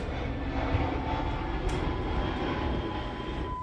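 A 2005–2010 Jeep Grand Cherokee engine idles in neutral, a steady, close, unbroken droning hum at constant level.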